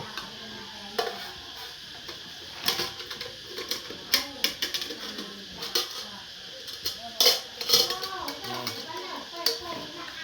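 A metal cooking pot is handled during an unboxing, its clanks and rattles coming in irregular bursts under ongoing conversation.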